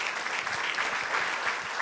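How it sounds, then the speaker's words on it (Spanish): Steady applause from a church congregation welcoming guests at a Sunday service, a short continuous patter of many hands at moderate level. "un fuerte aplauso para nuestros invitados."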